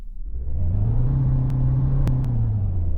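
Volkswagen Golf engine in the Roblox game hums at a steady idle that rises slightly and holds, a smooth low drone with a few faint ticks and no speech.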